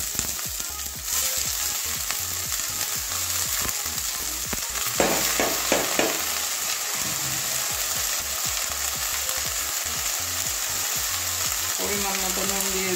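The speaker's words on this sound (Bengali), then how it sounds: "পেঁয়াজটা ভাজা হয়ে গেছে আমার, এবারে বাঁধাকপিটা দিয়ে দেবো।" Cabbage goes into a pan of fried onion for a paratha filling, a loud continuous sizzle with frequent rhythmic stirring scrapes and knocks from start to finish.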